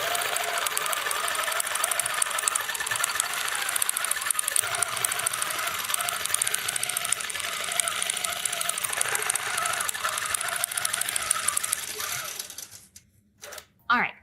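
A computerized quilting machine sews a quilt with a steady, rapid mechanical stitching rattle and whir up close, then stops abruptly near the end with a few clicks.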